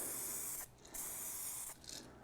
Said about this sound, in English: So we're spraying something that's kind of smaller here.